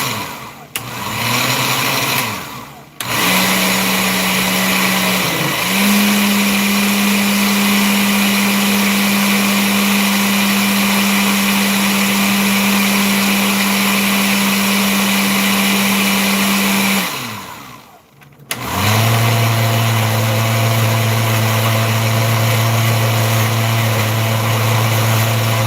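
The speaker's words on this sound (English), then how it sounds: "use varying speeds on your blender" Kitchen blender mixing sweet potato pudding batter runs loudly in long steady bursts at varying speeds, its motor pitch stepping up and down, stopping briefly twice before restarting.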